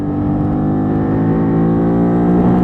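A Bullit Hero 50cc motorcycle with dual sport tyres and a throaty aftermarket exhaust, heard while riding. The engine drones loud and steady at close range throughout, pitch rising slightly, with no talking.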